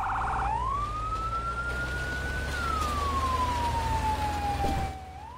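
A fire truck siren in a firefighting simulator game wails in one long rising and falling sweep over a low engine rumble, loud and steady, alone without talk.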